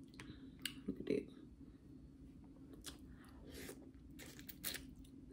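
Snow crab leg being cracked open and eaten, giving a few close, quiet crunches and snaps near the start, then softer clicks and chewing over a low background hum.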